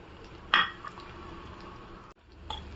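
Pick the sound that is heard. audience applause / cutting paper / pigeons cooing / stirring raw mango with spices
stirring raw mango with spices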